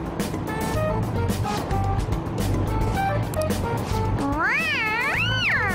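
In-game cat meows from Persona 5 sound over a steady low hum of background game audio. Several short mews come first, then a longer, wavering, drawn-out yowl near the end.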